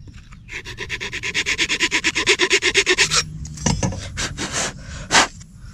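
Sandpaper rubbed back and forth to cut a groove into the centre of a wooden boomerang, a quick rhythmic rasping of about twenty close strokes, followed by a few separate scrapes.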